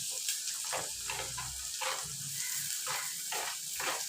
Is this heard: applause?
no